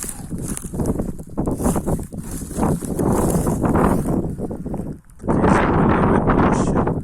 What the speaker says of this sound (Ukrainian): Вітер, звісно, у нас в лісі капець.